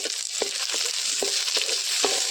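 A green chili drops into hot oil in a pan and fries with a steady bright sizzle, punctuated by regular soft knocks of stirring, close and continuous with no talk.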